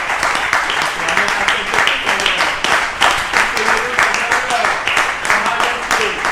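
A church congregation claps and cheers in praise of the Lord, a dense, steady wash of applause with rhythmic claps and voices mixed throughout.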